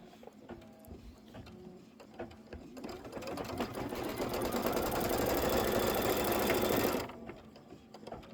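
An embroidery sewing machine stitches a placement trim line on a hoop for a Kimberbell Candy Corn quilt block, starting with light clicks, then ramping into a loud, rapid, continuous mechanical whir for several seconds before stopping abruptly.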